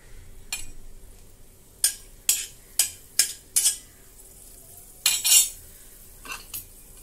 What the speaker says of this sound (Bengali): সর্ষের তেলটা গরম হয়ে গেছে, এবার আমি মেথি ফোড়ন দিচ্ছি 1/2 চামচ